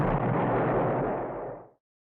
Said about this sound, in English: Mikey, edit in a pineapple explosion.